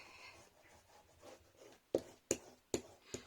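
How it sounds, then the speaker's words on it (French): Faint soft rolling scrape of a small tracing wheel on fabric, followed by four sharp clicking taps spaced roughly half a second apart, close by. "Je vais utiliser une petite roulette."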